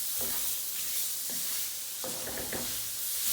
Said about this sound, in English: I'm going to fry that down in our blonde roux and our bacon bits